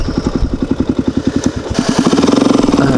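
A Honda ATV engine riding off-road, chugging in a steady loud pulse near the listener before revving up into a faster, denser drone.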